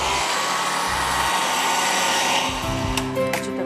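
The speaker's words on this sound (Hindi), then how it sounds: "आम जब हो जाए ब्लेंड" An electric blender whirs loudly, blending mango and cream for a mango mousse, a harsh steady motor roar that pulses slightly, then stutters and rattles as it slows near the end.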